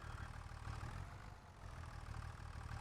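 Tractor engine idling in Farming Simulator 25, a steady low rumble holding an even level throughout with a slight dip midway, heard alone with no talk.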